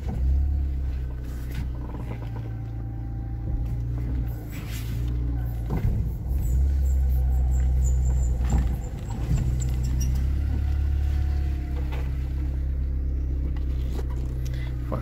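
A 2007 Tata Indica LSI 1.4i reversing, with a steady low idle-like engine hum running close throughout, broken by a few clunks and rattles of movement and mechanical noise.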